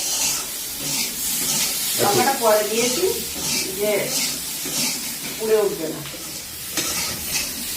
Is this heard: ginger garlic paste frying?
yes